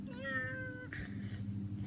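A voice imitates a cat meow during a children's stretching routine. One clear drawn-out mewing call with a falling pitch is followed by a breathy sound, over a low background hum.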